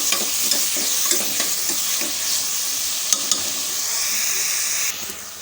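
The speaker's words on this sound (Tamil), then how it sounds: "காய்கறி கொஞ்சம் வதங்கட்டும்" Chopped vegetables and green chillies fry in a pan with a loud, continuous close sizzle, broken by a few soft stirring scrapes before the hiss drops slightly at the end.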